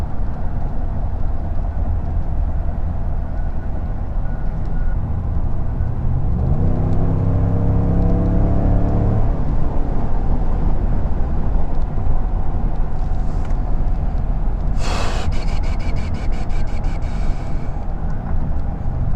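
Steady road noise and engine drone from a Ford F150 pickup cruising on the highway while running on an empty fuel gauge, with a brief rising whir partway through and a short sharp rattle near the end.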